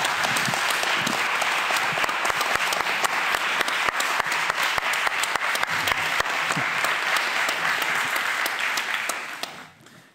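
A debate audience breaks into sustained, moderately loud applause as a show of hands for a vote, steady clapping that continues evenly, then fades away toward the end.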